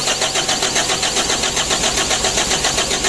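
A 136 HDL engine, freshly rebuilt after overheating, cranks on its starter with a loud, steady, rapid pulsing chug that continues unbroken throughout.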